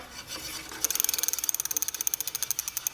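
A Heybike Ranger e-bike wheel spins with the brake rubbing lightly, giving a fast, regular ticking and scraping that repeats with each turn, close and fairly faint.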